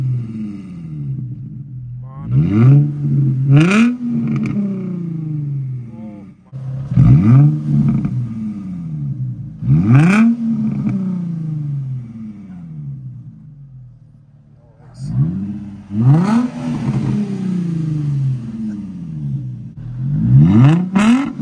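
An Infiniti G35 with a muffler delete and blast pipes revs repeatedly, each sharp rise in pitch followed by a drop, in roughly five loud bursts separated by a rough, burbling idle.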